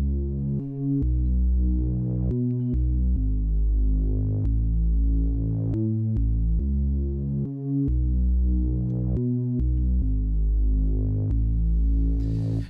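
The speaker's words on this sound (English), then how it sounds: "So as we listen to this, we'll hear just that bass." Deep, sustained bass line from a beat plays alone, a loud, smooth low tone that steps between notes in a steady repeating pattern.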